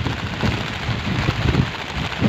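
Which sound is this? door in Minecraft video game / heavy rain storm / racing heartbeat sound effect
heavy rain storm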